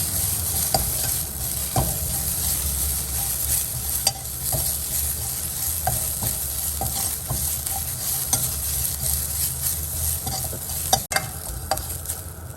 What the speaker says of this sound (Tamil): நம்ம கொத்தமல்லி போட்டு நல்லா வணக்கி வச்சு